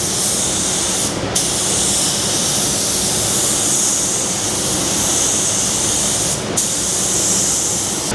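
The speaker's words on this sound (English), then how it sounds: "You don't want to be spraying wet primer on wet primer." A spray gun lays primer onto a Torana car body in a loud, steady hiss that runs almost unbroken, with two brief cutoffs between passes.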